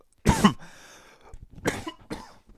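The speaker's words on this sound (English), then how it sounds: "I'm going to cough." A single sharp cough bursts out close to the microphone, then two softer throat-clearing coughs follow, with no talking in between.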